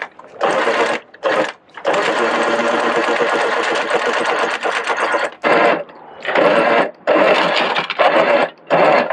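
An electric anchor windlass on a boat hauls up an Ultra anchor on its chain with a flip swivel, its motor whirring loud and close in steady runs broken by short pauses.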